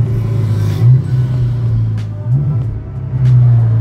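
Volkswagen Golf 6 GTI with a custom stainless steel exhaust, its engine revving in several strong surges that rise and settle over a steady deep rumble, loud and close with no talk.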